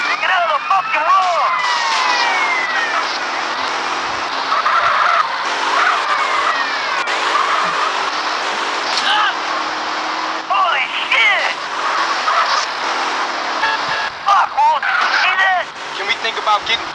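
Cars in GTA San Andreas on Android drive hard with repeated loud tyre squeals and skids over steady engine noise, while voices talk throughout.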